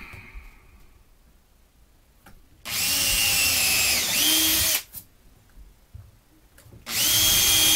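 Power drill driving screws into the wood of a dutch door during a repair, in two loud sustained whirring bursts with a quieter pause between them, no talking.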